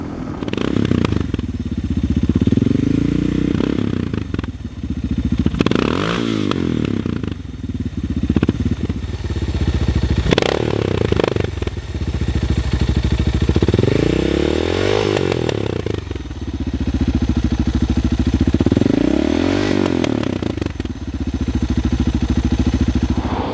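A Suzuki DR650 dirt bike with an aftermarket exhaust revs in repeated loud bursts, rising and falling every few seconds with a deep rumbling exhaust note and crackle between blips, close by with no talk.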